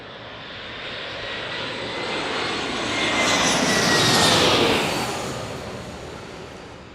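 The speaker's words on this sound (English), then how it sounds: "as we have another E-175 landing here shortly" An Embraer E-175 jet airliner landing at a San Diego airport, its engine roar building steadily to a loud peak mid-pass and then fading away, heard from a distance with no talk.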